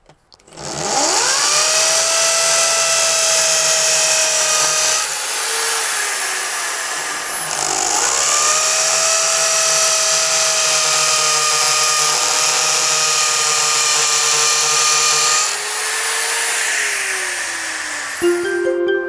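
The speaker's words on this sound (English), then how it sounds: "we now have our holes marked and we're ready to drill" A power drill whines loudly and continuously in long runs, drilling holes in a wall, briefly easing off and spinning back up between them, close by.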